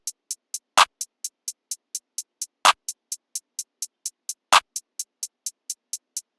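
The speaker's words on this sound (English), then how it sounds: "Then a layered clap." A sparse hip-hop drum pattern in FL Studio plays steady crisp hi-hat ticks punctuated by three louder, fuller layered claps spaced about two seconds apart, with no voices.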